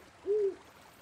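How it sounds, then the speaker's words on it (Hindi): An owl in the Colossal Cave Adventure video game gives a single short, low, smooth hoot, clear and fairly close over a faint background hiss. "ओ भाई उल्लू बैठा है देख रहे ऊपर"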